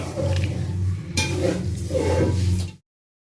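Spoon scraping and stirring through a pan of carrot halwa as beaten eggs and almonds are mixed in with the flame off: steady, close, wet scraping strokes that stop abruptly.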